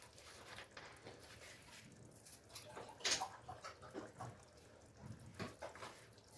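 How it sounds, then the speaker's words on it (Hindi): Water poured into a cooking pot for daal gosht, meat and lentils in the pot, a quiet continuous trickling splash lasting several seconds with small gurgling swells, no talking. "मैंने इसमें अब डालना है पहले पानी।"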